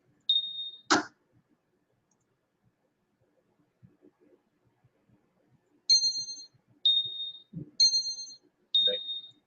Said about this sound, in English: That'll be the bell ringing there.